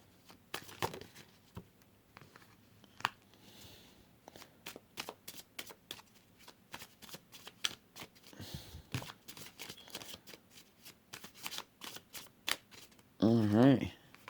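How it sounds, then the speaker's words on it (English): Tarot cards are shuffled and handled at close range: a steady run of sharp, papery flicks and taps, with brief louder riffles, and a short burst of voice near the end. "I'm just fixing the cards as they fall down"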